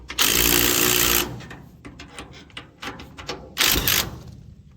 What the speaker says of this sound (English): And give them a crank. Get some tension on them.